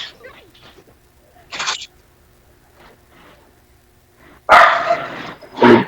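A dog barks close by in three loud, short bursts, one early and two near the end, with faint conversation murmuring between them.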